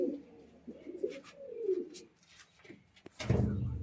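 Saki Teddy pigeons cooing softly in a loft, several low rolling coos close by, then a burst of louder rustling and fluttering near the end.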